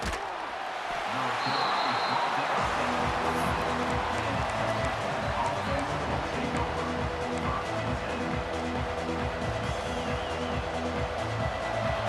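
A stadium crowd in EA Sports College Football 26 keeps up a steady roar, with game music and a commentator talking over the constant noise.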